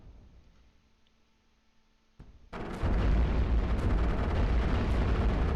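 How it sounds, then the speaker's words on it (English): Cannon fire in the iBomber Defense war game: a quiet hum breaks into a sudden heavy blast, followed by a sustained loud roaring rumble. "cannon's doing okay"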